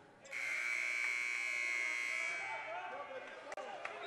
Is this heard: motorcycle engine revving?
no